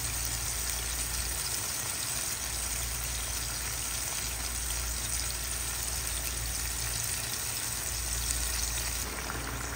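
Fried tilapia cooking in a pot of fish sauce and water for sarciado gives a steady, continuous sizzle and bubbling simmer, close and even throughout with no talking.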